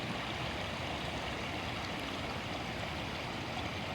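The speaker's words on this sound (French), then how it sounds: "elle s'écoule vers un torrent beaucoup plus impétueux" A rushing mountain torrent pours in a steady, dense roar with no breaks and nobody talking, heard at moderate level.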